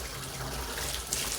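Water from a Moen bathtub and shower faucet runs in a steady, loud, even rush close by, with no voices.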